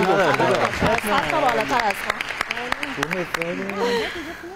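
A studio audience at a team quiz show claps for group two, with scattered sharp hand claps running steadily under overlapping voices and chatter throughout.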